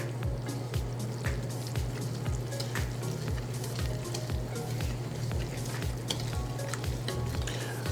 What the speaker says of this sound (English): We're going to fold everything together.